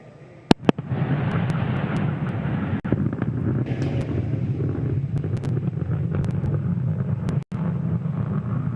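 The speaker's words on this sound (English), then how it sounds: "There you can see the landing burn has begun on Falcon 9." A SpaceX Falcon 9 first stage fires its landing burn at night over Landing Zone 1, a steady, rumbling roar that holds for several seconds after a couple of sharp cracks, with wind buffeting the microphone.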